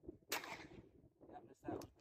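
Two sharp cracks from a Rohm .38 revolver firing light cowboy loads at targets outdoors, spaced more than a second apart, each with a short decaying tail.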